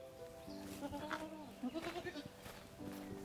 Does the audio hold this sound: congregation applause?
no